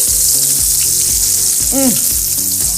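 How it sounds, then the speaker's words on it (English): Spiced ribs sear in a hot pan, a dense bright hiss of frying that runs steadily, with brief faint tonal sounds over it and no speech. "let's go take a look at the meat that's searing"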